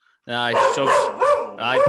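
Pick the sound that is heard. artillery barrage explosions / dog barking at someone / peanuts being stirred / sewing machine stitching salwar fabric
dog barking at someone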